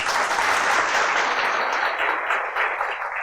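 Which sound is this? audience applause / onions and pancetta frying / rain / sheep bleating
audience applause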